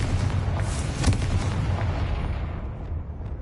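The Confringo fire-blast spell in Hogwarts Legacy goes off as a heavy, booming explosive burst, then a rumbling decay fades out over a few seconds, with no voices.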